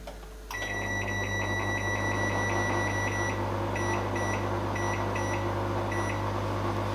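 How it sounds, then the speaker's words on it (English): A microwave oven runs while cooking blackberry jam, its steady low hum starting after a brief click and holding evenly, with faint high electronic tones pulsing over it, no talk. "And back in the microwave"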